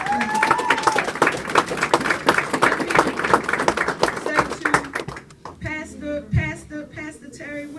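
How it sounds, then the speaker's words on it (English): A town hall crowd applauds Councilwoman Jamie Gauthier with a burst of clapping that thins out after about five seconds. Voices and talk then take over as the applause fades. "Give her a round of applause,"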